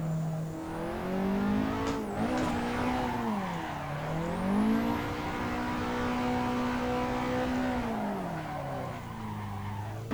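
Car drifting in the Assetto Corsa racing sim, heard as a continuous revving engine whose pitch rises and falls through the slides, with tire squeal and skidding layered in, close and steady.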